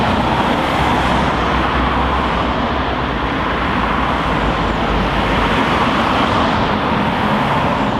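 Steady, loud road traffic at Penrith with cars and heavy vehicles passing close by, a continuous broadband roar that swells and eases slightly without pause.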